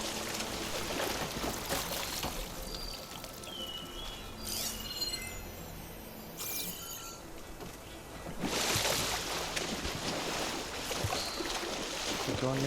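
Water splashes and sloshes in Horizon Forbidden West, with a broad rushing wash that swells loudly near the end over steady background game ambience.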